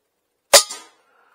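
A Kalibrgun Cricket II Tactical 60 .22 caliber air rifle fires a single sharp, loud shot, followed by a brief metallic ring and a short decay into silence.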